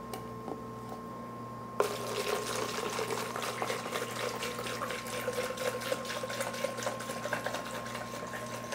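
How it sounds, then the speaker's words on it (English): Evaporust rust remover liquid pours into a container holding a scissor knurler, a steady watery trickle and splash that starts abruptly and runs on with a faint motor-like hum beneath. "And now we're gonna put some Evaporust."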